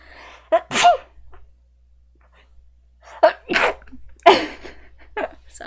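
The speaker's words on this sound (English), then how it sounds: "I have to sneeze." A person sneezes, a sharp burst near 1 second, then a pause followed by a louder second sneeze and smaller bursts, close to the microphone in a quiet room.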